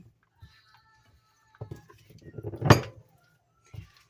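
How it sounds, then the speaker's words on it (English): Spoon scraping and clinking in a bowl while butter is mixed into biscuit pieces for monkey bread, a few soft knocks then a brief clatter of utensil on dish, close and quiet. "Take the butter, mix it with your biscuits"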